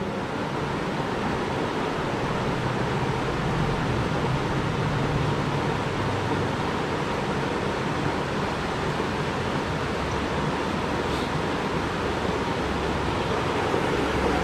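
Flowing water of Soco Creek at Cherokee, a steady, broad rushing wash that stays constant and fairly close throughout, with no talking.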